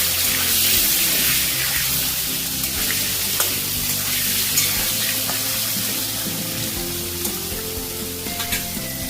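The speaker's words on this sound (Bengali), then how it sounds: "ওই তেলের মধ্যেই আলুগুলোকে ভেজে নেব।" Potato pieces frying in hot oil in a home kitchen, a loud, steady sizzling hiss that runs throughout with occasional small pops and crackles near the end.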